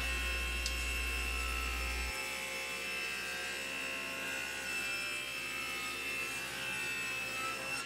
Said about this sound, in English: here you see me trimming the end of the top panel, or the seat. Trimming it to length and trimming it square